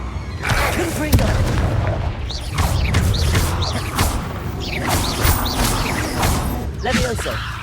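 Repeated blasts from the Confringo fire spell in Hogwarts Legacy, booming impacts recurring every second or so over a busy combat soundscape with crashes and whooshes.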